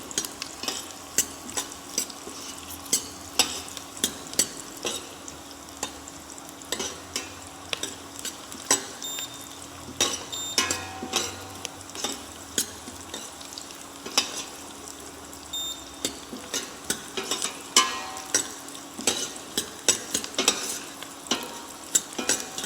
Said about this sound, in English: We are going to saute that also nicely. We need to stir constantly.